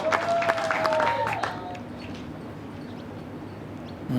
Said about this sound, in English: So that little bit of an extra cheer, a little bit of a longer clap for each bowl